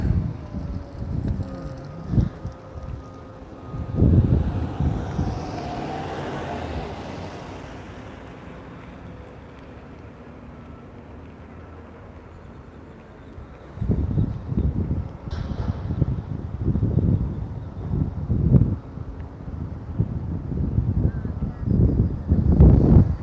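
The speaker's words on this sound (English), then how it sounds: "There's a wind from the south." Outdoors at SpaceX Starbase in Boca Chica, Texas, a south wind blows in gusty rushes against the microphone, with a quieter lull between, over a continuous background of surf.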